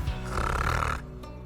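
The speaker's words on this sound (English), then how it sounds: "Snoring little T-Rex snores." A little T-Rex lets out one short, rumbling snore, close and fairly loud, ending in a brief pause.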